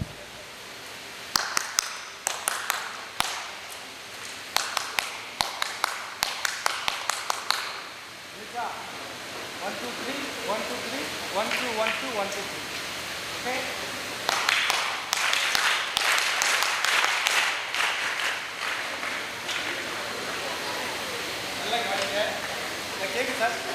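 Hands clapping in a steady counted rhythm of grouped beats during a youth gathering, sharp and fairly close, followed by a denser stretch of claps mixed with a lively room and voices talking.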